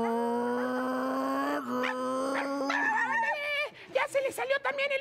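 A voice imitates a dog, with a sustained howl-like tone that breaks into a quick run of yips and short barks, loud and close.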